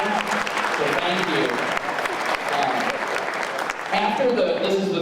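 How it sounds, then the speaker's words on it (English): Audience applause at a school Christmas concert, honoring students and teachers, sustained dense clapping from a crowd throughout, loud and steady with some cheering mixed in. "give a round of applause for all the students that made it and the teachers that took the time"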